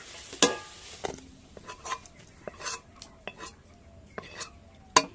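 A spoon stirs spiced cauliflower filling in a metal pan, giving irregular clinks and scrapes against the pan with light sizzling between them and sharp knocks near the start and end.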